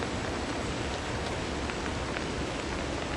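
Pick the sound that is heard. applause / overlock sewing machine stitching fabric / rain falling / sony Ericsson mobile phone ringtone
rain falling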